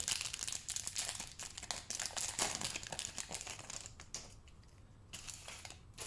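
A Pokémon card booster pack wrapper being torn open and handled, with dense, close crinkling and rustling that thins out toward the end.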